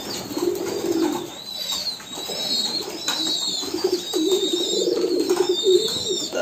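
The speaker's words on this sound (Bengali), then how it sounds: "অনেকদিন পর কবুতরগুলো গোসল করছে।" Pigeons at a pigeon farm loft coo over and over while bathing, the soft throaty calls coming in overlapping bursts, with occasional wing flutters and splashy rustling nearby.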